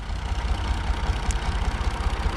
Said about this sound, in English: Here comes another little blue tractor.